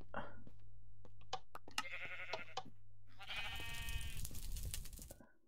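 A sheep in the video game Minecraft lets out a drawn-out, wavering bleat in the latter half, preceded by game clicks and brief sounds, with voices talking.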